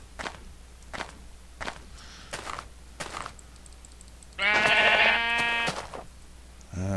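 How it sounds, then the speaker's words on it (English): Minecraft footsteps tap in a steady rhythm, four or five soft steps, then a sheep lets out one loud, close bleat lasting about two seconds before the footsteps resume. "one thing I do want to find is some sheep"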